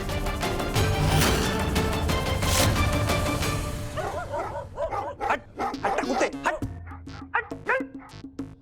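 A dog barks and yips repeatedly, close by near a window, after a dense burst of music fades out.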